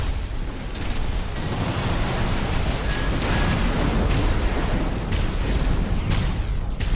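Missile explosions from the mech combat game Armored Core 6, a dense, continuous barrage of booms and bursts with sharp impacts every second or so over a loud, rumbling wash of battle noise.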